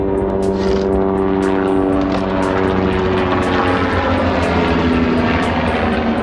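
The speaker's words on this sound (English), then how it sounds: "helicopter." A helicopter passes overhead with loud, continuous rotor chop and a steady droning engine tone, filling the whole stretch without pause.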